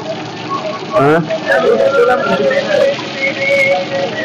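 Cumin and mustard seeds sizzle and crackle in hot oil, a continuous close hiss heard under a person speaking.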